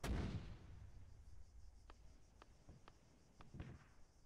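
Artillery gun fire in a military video game, with a handful of sharp, distant reports spaced a second or so apart over a low rumbling background.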